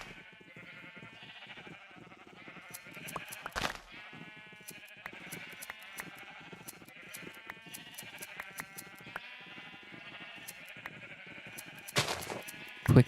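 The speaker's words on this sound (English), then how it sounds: "Quickly shear the sheep." Sheep in the Minecraft video game bleat again and again, short wavering calls overlapping in a steady stream, with a couple of louder bursts standing out.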